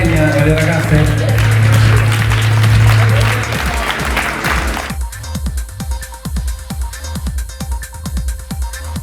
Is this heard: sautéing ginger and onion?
no